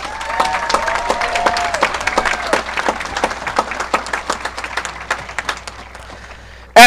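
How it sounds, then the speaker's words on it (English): A large crowd applauds at a high school graduation ceremony, distinct claps in a fast rhythm with a voice over them early on, thinning out before a loud sound at the very end. "Please give them all a round of applause."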